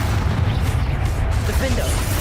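Spell explosions in the wizard combat game Hogwarts Legacy on PS5, a dense run of booming bursts and pops packed tightly together under continuous voiced spell incantations.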